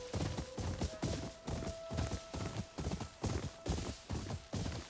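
Horse hooves gallop in the video game Ghost of Yotei on PlayStation 5 Pro, a steady rhythmic run of paired thudding hoofbeats, moderately loud and close, with a faint sustained tone beneath and no talking.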